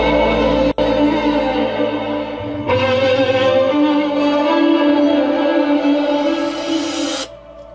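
A sampled sarangi, a bowed Indian string instrument, plays a continuous wavering melodic line at steady volume with no voices, its texture thickening partway through before it cuts off near the end.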